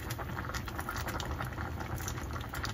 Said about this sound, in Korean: 된장찌개를 끓이고 있는데